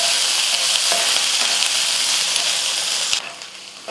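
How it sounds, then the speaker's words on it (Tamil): Small chopped onions and curry leaves fry in hot coconut oil with a loud, steady, close sizzle and crackle, occasional stirring scrapes, and no voices. "வெங்காயம் வந்து நல்லா வதங்கிடுச்சு"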